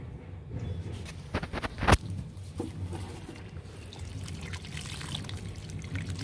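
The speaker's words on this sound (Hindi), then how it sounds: "तो फ्रेंड्स अब हम इसमें वाटरिंग करते हैं।" Water poured onto the soil of a potted ginger plant, a steady trickle and splash close by with one sharper knock near the middle, no voice over it.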